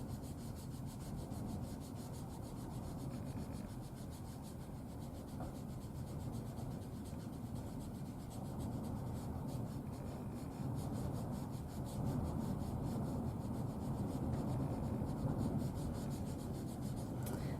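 Coloured pencil blending on paper, a tool rubbed steadily up and down in a continuous soft scratchy rasp that swells slightly louder toward the end, with no talking.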